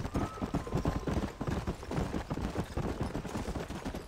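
Horse hooves gallop at a fast, steady clip-clop in the Red Dead Redemption video game, a dense, close rhythm of hoofbeats that carries on without pause.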